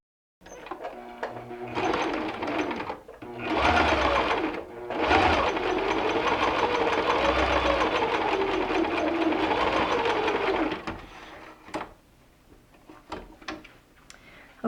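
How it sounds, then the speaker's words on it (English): A sewing machine stitches a quarter-inch seam along quilting fabric, its motor whirring in a steady, fast run for about ten seconds with a brief pause partway, then falling quiet to a few light clicks. "we're going to sew 1/4 inch all the way down"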